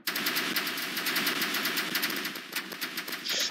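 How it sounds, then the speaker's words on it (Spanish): Rapid automatic gunfire and shots from a multiplayer first-person shooter match, a dense, continuous barrage of loud bursts running nearly the whole time with brief gaps near the end. "Me están dando balazos, bolazos, mejor dicho, con todo"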